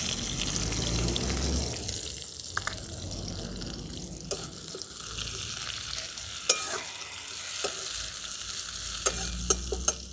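Chopped onion frying in a kadai with oil, panch phoron and a dried red chilli: a busy hiss and sizzle with scattered clicks and scrapes of stirring throughout.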